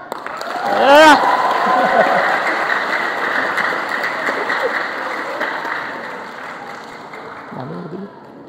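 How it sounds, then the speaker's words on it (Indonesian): Loud, sustained applause from a seminar audience at an Islamic boarding school event at UIN Bandung fills the room. It begins with a shout and a cheer, then slowly fades, with a voice briefly heard near the end. "Kalau mau tepuk tangan yang keras"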